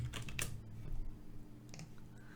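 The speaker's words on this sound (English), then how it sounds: "let me type please in here." Quiet keyboard typing on a computer, a short run of soft clicky keystrokes in uneven bursts, heard close and alone.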